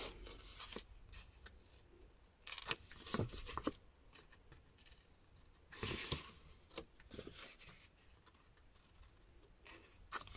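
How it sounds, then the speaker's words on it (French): Scissors cut small paper squares for a pop-up card page, several quiet snips and rustling paper scrapes in uneven bursts, close and faint, with no voice. "Et on va venir couper les petits carrés"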